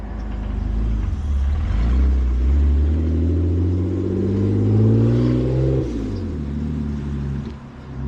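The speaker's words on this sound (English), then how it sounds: "Tater's heading out in the BMW." A BMW car pulling away, its engine rising through revs in a loud, close rumble, then shifting and fading slightly as it leaves.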